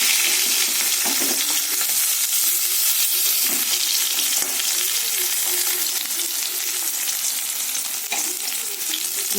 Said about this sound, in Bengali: লাল লাল করে এদিকে ভাজা হয়ে গেছে। আমি এবার একে একে তুলে নেব মাছগুলো।